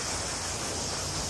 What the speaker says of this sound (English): The wind just came out of nowhere.